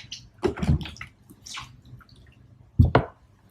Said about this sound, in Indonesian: Kita sikat lagi. Kita bilas lagi.